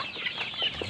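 Local chickens on a small poultry farm of about 150 birds in Barpeta, Assam, give soft, brief clucks against a steady background hum, with no talking.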